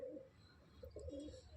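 Madras pigeons at a home loft coo softly in a few short, throaty bursts, close by and fairly quiet, with no talking.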